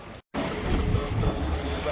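A sailboat motors along under engine power, a steady, loud broadband rumble mixed with wind and water noise, briefly cut out near the start.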